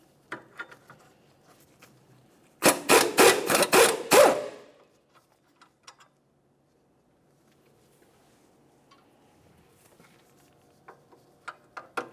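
A 17mm mounting bolt and nuts being removed from the steering knuckle of a 2006-2011 Honda Civic: a loud, close burst of rapid ratcheting clatter lasting under two seconds, followed by quiet with scattered small tool clicks.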